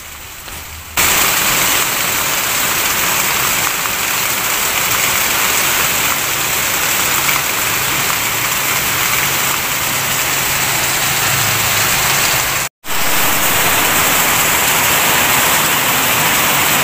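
Rain falls in a dense, even hiss that starts abruptly and holds steady and loud, broken by one brief cut near the end.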